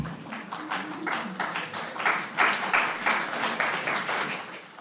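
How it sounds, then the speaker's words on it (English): Lukewarm applause from an audience at a wildlife talk, moderately dense clapping that swells in the middle and then tapers off, fairly close and alone without voices. "that was a lukewarm brand of applause"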